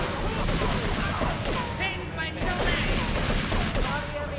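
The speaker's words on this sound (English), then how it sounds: "Oh, he's shooting at him." Dense gunfire in Grand Theft Auto, a steady loud barrage of shots and game noise filling the whole stretch without a clear break.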